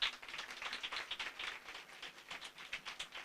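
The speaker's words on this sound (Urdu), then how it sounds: "زوردار تالیوں کے ساتھ جی" A congregation clapping during a Sunday church service in Pakistan: continuous dense applause with many hands, steady and fairly even, heard from some distance at moderate level with no voices on top.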